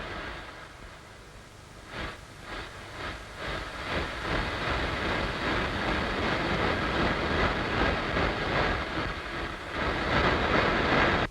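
Cartoon train rattling steadily along the rails with a rhythmic clickety-clack that grows slightly louder and fuller toward the end, heard alone without voices.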